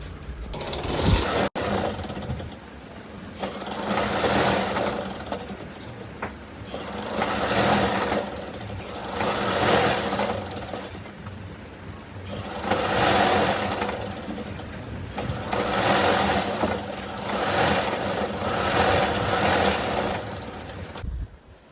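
A sewing machine stitches a quilt pieced from nine old sarees, running in repeated bursts of rapid mechanical chatter that swell and pause in a steady rhythm, close and alone.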